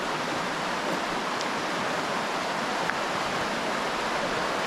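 A mountain stream in Poland's Kościeliska Valley near Zakopane flows close by, a dense, steady rushing hiss of water that stays even throughout with no voices.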